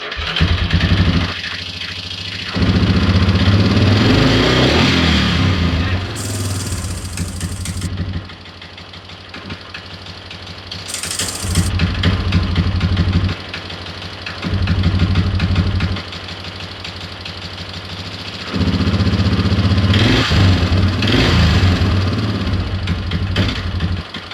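A quad ATV engine, believed to have been out of gas, cranks and catches in repeated attempts, idling roughly and revving loudly in bursts, with short quiet gaps between tries and a few higher-pitched whines.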